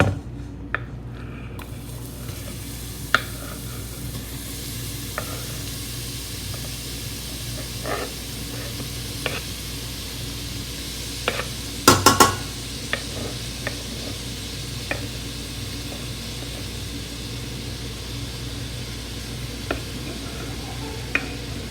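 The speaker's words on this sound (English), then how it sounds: "and now you will add the onions that you have cut." Chopped onions sizzling in a pan for Japanese curry, a steady close frying hiss with occasional soft clicks and a brief scrape of stirring near the middle, no voices.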